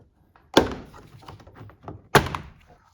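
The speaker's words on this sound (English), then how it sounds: "Remove this piece of trim right here." Plastic interior door trim pried off a 2007-2013 Toyota Tundra door: two sharp clip-release thunks with brief rattling after each, close and fairly loud.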